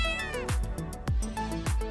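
A cat meows in a short run of drawn-out cries, close and clear, punctuated by regular soft thumps.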